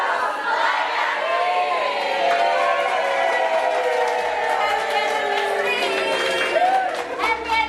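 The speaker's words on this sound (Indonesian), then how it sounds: "Boleh tepuk tangan sekali lagi" An audience at a church anniversary service in Depok breaks into sustained clapping and cheering, a dense, steady crowd roar lasting several seconds with voices shouting over it.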